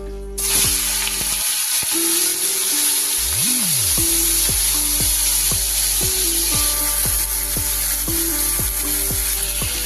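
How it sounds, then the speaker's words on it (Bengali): Prawns fry in hot oil with a loud, continuous sizzle throughout, broken by repeated scraping and stirring strokes close by. "তেলটা আমার গরম হয়ে গেছে। এবার আমি চিংড়ি মাছগুলো দিয়ে দেব।"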